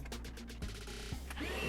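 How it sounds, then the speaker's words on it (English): A small tool taps a screw thread into a shear pin hole in a rocket nose cone, giving a steady, quiet mechanical whir with faint regular ticks throughout. "we'll tap the hole,"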